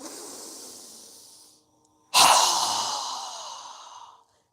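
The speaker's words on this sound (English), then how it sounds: "exhale with our mouth open wide as we lower our hands down" Two long open-mouth exhales in a yoga breathing exercise, a soft fading breath followed by a pause and then a louder, forceful whoosh of air that tapers away, close and alone without talk.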